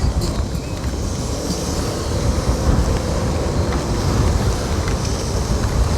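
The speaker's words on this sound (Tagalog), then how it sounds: "Pabugso-bugso yung malalakas na hangin dito sa Bacoor" Strong, gusty storm wind in Bacoor roars steadily and loudly around a rider on a motorcycle, a broad rushing noise that swells in gusts without letting up.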